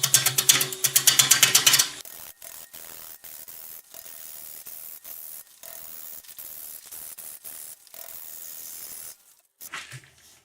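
Oak bowl from firewood roughed out on a wood lathe at about 500 RPM: a loud rapid chattering burst at first, then a quieter steady hum broken by short cuts and pauses.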